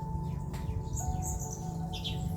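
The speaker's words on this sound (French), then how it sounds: "Oh, l'oiseau, il est là." Small bird chirping in short, bright tweets, several brief calls scattered above a steady low background hum, fairly faint and with no one talking.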